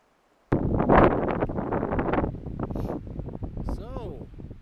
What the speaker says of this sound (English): Sorry, it's kind of windy. Can't help the wind.